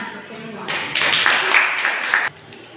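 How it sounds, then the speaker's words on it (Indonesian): Applause for everyone in a classroom mathematics lesson: a dense burst of clapping that rises suddenly, holds for about a second and a half, then cuts off, with a voice speaking before and after it. "Tepuk tangan untuk semua."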